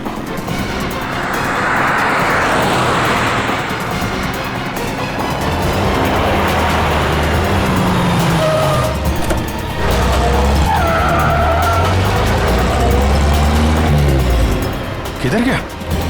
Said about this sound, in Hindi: गाड़ी गाड़ी गाड़ी जल्दी।